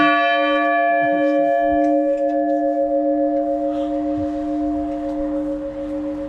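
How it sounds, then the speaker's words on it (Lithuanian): Church bells in Vepriai ring out as a sustained, resonant hum that decays gradually. The tone stays clear and fairly loud, with no speech over it. "Va kokie varpai Vepriuose."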